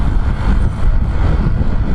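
A Honda ADV 150 scooter fitted with an upgraded pulley and modified sliding sheave revs on the throttle, giving a steady, close, low engine drone that holds at a fairly even pitch without clear rises or drops.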